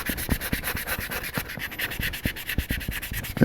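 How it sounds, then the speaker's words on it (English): A sanding sponge rubs back and forth over a quarter-scale model kit in quick, even strokes, a close, scratchy, rhythmic rasping with no talk. "I'm going to follow up some of this other sanding sponge"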